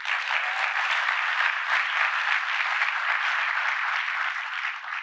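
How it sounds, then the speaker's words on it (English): A large crowd at a presidential speech on rebuilding supply chains applauds and cheers, a loud, dense, continuous wash of clapping that holds steady for several seconds. "you can cheer. It's all right."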